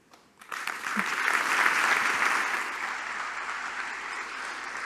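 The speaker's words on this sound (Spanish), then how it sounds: "Fuerte aplauso para la presidenta del Banco de la Nación Argentina, Silvina Batakis." An audience at an economics forum applauds the president of the Banco de la Nación Argentina, clapping that swells quickly after a brief quiet start, peaks, then settles into sustained steady applause.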